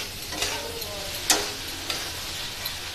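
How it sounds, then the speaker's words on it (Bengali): Hilsa fish curry with potato and eggplant being stirred with salt and turmeric, giving a soft steady sizzle and a few distinct spoon scrapes and taps against the pan. "ভালো করে মিশিয়ে"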